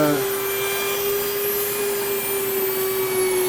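An electric grain mill grinding wheat into flour at a slow feed rate, a loud steady whining drone with a constant pitched tone and no break.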